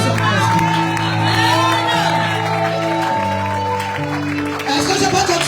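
A church conference crowd cheers and applauds, with loud shouts, whoops and raised voices over clapping that carries on throughout.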